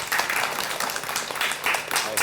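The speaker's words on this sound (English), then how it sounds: "a huge round of applause" Audience at a business talk gives a round of applause for a guest speaker, a steady dense wash of clapping with a voice talking over part of it.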